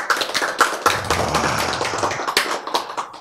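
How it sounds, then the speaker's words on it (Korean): Clapping breaks out during a church sermon on why Jesus had to die. Sharp close claps come in an uneven burst for about three seconds, with a low hum underneath. "참 박수 한번 쳐야지"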